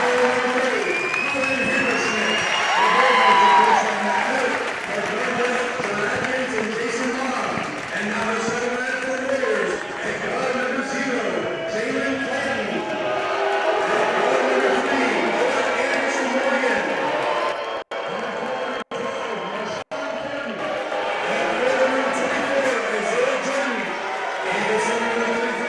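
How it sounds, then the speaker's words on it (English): Continuous crowd noise at a school sectional championship basketball game before the starting lineups. A dense murmur of chatter and shouting fills the gym at a fairly loud, steady level, with brief clicks near the end. "a lot of crowd noise there"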